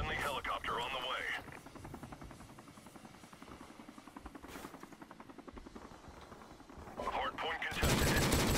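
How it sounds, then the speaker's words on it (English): Multiplayer gunfight in Call of Duty Modern Warfare Remastered, with steady rapid gunfire and a whirring helicopter throughout, sharper bursts near the start and end, under continuous game noise. "Friendly helicopter on the way."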